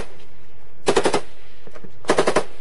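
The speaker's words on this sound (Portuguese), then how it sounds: "A embarcação gaúcha foi alvo de disparos das Forças Armadas uruguaias." Two short bursts of rapid gunfire from Uruguayan armed forces at a fishing boat at sea, each about four shots, separated by a pause of roughly a second; loud and sharp against a quiet background.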